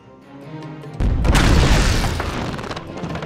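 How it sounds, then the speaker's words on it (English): A deep boom of a cannon firing in a Skylanders video game hits suddenly and is followed by a broad, rumbling crash that slowly fades. It is loud and sits alone, with no talking. "Use the action button to fire the cannon."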